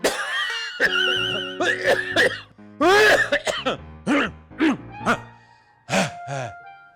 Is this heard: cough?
yes